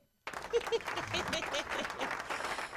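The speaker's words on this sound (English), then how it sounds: "Clap it up for mama." An audience claps for the artist's mother during an interview, a dense patter of hands starting abruptly and holding steady at moderate level, with some voices mixed in.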